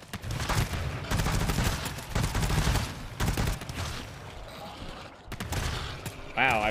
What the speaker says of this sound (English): Man, all machine pistols feels amazing.